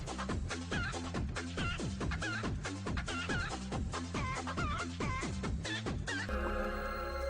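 A chicken clucking alert plays on a livestream, its loud repeated clucks and squawks riding over a steady musical beat, then shifting to a brighter jingle near the end.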